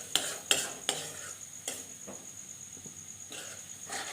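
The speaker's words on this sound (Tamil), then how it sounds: "அந்த மசாலெல்லாம் அந்த முட்டையில் கலந்து வர்ற மாதிரி நல்லா கலந்து விட்டுக்கோங்க." A spoon stirring egg and masala in a pan for egg rice, a few sharp scrapes and clinks against the metal at an uneven pace over a faint sizzle, alone with no voices.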